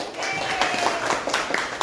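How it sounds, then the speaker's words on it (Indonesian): Audience clapping at an Indonesian school teachers' gathering: a steady patter of many hands, moderately loud and continuous, with scattered sharper claps standing out. "tepuk tangan buat kita semua"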